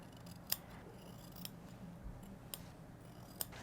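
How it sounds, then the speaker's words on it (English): Scissors trim the edge of quilted placemat fabric, close and quiet, about four crisp metallic snips spaced roughly a second apart over a soft background hiss. "I'm just going to trim off just a little bit as I go up through here"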